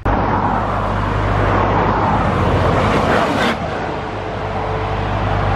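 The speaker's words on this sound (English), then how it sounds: "We're gonna get some flybys going on for you guys so you can see just the speed of these things" A C8 Corvette's loud engine roar rises and sweeps past at speed, its pitch shifting as it passes, then fades into a lower steady rumble.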